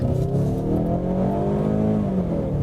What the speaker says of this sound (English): It sounds so goofy flooring this thing and hearing that angry four-cylinder.